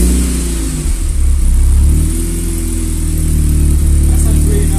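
A 1972 Mini with a VTEC engine swap revs while stationary, its loud, close engine rising and holding a strong throaty drone, with faint voices in the background.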